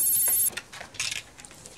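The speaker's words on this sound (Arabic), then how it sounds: "محدش بيرد على التليفون ليه؟" A telephone rings in a short, bright electronic trill at the start, followed by faint clicks and rustling in an office setting.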